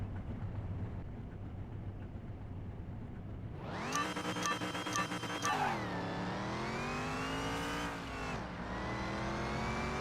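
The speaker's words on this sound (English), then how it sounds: "Really dropping down on the revs," A simulated car engine in a Car Mechanic Simulator 2021 drag race against a Ford Focus RS hums low, then screams up to high revs, shifts, and climbs again, loud and close with no talk.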